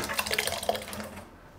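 Water pours from a milk vessel into a mixer jar in a kitchen, a short close gush that splashes for about a second and then fades away, with no talk.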